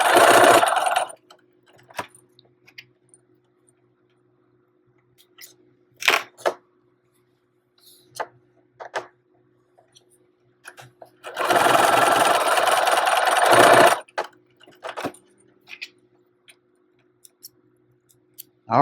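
Sewing machine zigzag-stitching an invisible zipper into a fabric fold, heard as a short opening run, a brief burst near six seconds and a longer steady run of about two and a half seconds, with quiet pauses and small clicks between.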